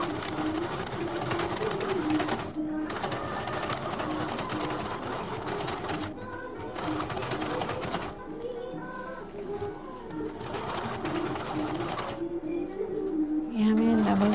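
A sewing machine stitches a princess-cut deep-neck blouse in rapid whirring bursts, broken by several short pauses as the fabric is repositioned.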